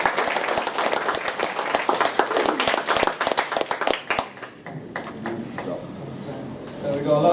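A classroom group claps for students stepping up, dense irregular hand claps for about four seconds that thin out and fade, followed by quieter room noise with a little talk.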